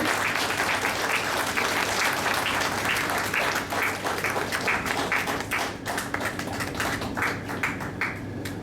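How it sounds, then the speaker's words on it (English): An audience at a food safety awards ceremony breaks into steady, dense applause for the chief guest, a continuous wash of clapping from many hands that fades slightly toward the end. "Can we have a big round of applause?"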